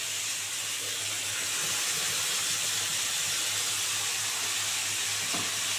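Blended spice paste with tomato sizzles in hot oil in a pan while koi fish curry cooks, a constant loud hiss and crackle filling the whole stretch with no talking.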